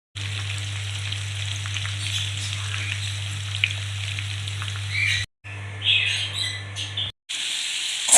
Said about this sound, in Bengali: এবার পেঁয়াজ দিয়ে দিয়েছি ফোড়নের সাথে, ভালো করে নাড়বো